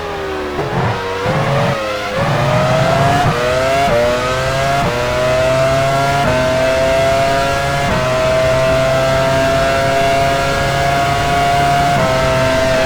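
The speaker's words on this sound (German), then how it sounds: "Eddie Irvine fährt in die Boxengasse." Formula 1 car in the F1 Challenge 99-02 game at Sepang, Malaysia, revving loudly through quick gear changes, then settling into a steady high engine whine, close and unbroken with no voices.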